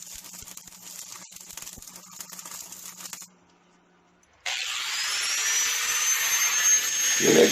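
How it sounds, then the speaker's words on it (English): An angle grinder strips paint from a steel loader bucket ahead of welding, a loud sustained high whine that starts abruptly after a quieter stretch of background noise and a brief near-silence. "I got to grind off the paint so we can get a good weld"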